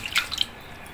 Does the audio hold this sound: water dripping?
yes